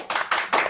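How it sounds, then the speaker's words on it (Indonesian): An audience bursts into brief, crisp clapping in three quick waves at a Sundanese stand-up comedy podcast taping, close and lively with no voices over it. "Tepuk tangan."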